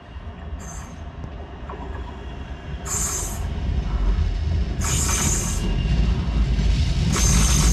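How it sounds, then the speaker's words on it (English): A Manchester Metrolink light-rail tram on the Altrincham to Piccadilly service rolls into a station, a low rumble growing louder as it nears, with repeated high squeals from the wheels. "Arriving in is a Manchester Metrolink service to Piccadilly from Altrincham."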